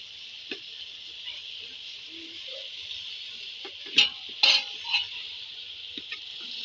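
Chicken curry with potatoes and green chillies being stirred in a clay handi over the heat: a steady sizzling hiss with a few soft scrapes and a cluster of louder clunks near the middle.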